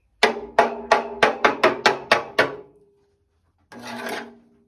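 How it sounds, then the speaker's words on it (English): Screwdriver jabbing and scraping at a rusted Land Rover chassis plate, a rapid series of about nine sharp scraping strikes followed by a pause and one longer grinding scrape, close and alone. "I can stick the screwdriver straight through"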